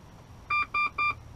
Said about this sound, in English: and we're going to hear the dash beep.